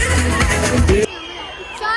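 Audience applause and cheering at the Esenyurt summer sports schools closing ceremony, a concert event. A loud crowd wash follows a brief stretch of amplified speech and music, then holds steady as broadband clapping noise.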